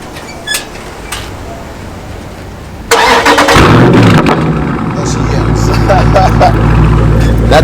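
A 2019 Dodge Charger Scat Pack V8 with a muffler delete is remote-started. It cranks with a sharp burst, roars loudly and settles into a deep, rumbling idle, with a few clicks beforehand.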